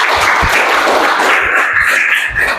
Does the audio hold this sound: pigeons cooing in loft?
no